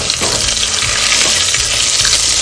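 Cumin and whole spices crackle and sizzle loudly in hot oil while khichdi tempering is prepared, a dense, continuous frying hiss heard close up with no talking.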